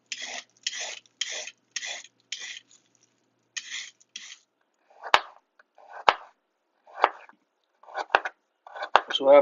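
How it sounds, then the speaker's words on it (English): Carrots being chopped for homemade beef vegetable soup: a few rasping scrapes first, then a series of distinct, close knife chops with sharp thuds against the board at an uneven pace. "So after you shave the skin off them, you want to chop them up."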